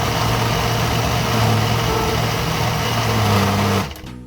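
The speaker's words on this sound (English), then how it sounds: "We'll let that grind," An electric grinder whirs loudly and steadily, close by, as it grinds a spice mixture for lamb biryani, then cuts off abruptly near the end.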